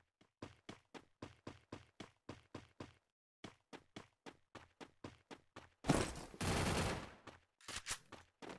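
Gunfire in Garena Free Fire rattles out in quick rhythmic bursts of evenly spaced shots with a brief pause, then a louder blast and a burst of rushing noise before a few more shots.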